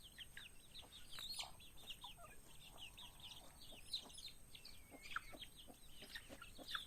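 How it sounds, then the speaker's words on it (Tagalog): Chickens cluck and chirp repeatedly while pecking at feed of rice bran mixed with cooked rice, many short calls overlapping at moderate distance over a soft outdoor background. "So yan yung mga manok ko."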